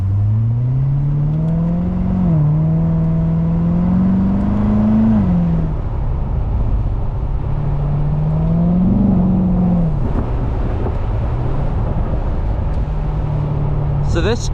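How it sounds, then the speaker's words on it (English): A 2014 Chevrolet Corvette 3LT Premiere Edition with its exhaust opened in track mode accelerates through manual-shifted gears, the engine droning and rising with dips at each shift, loud and steady from inside the cabin, with a voice talking over it. "We are in track mode, which of course opens up the exhaust."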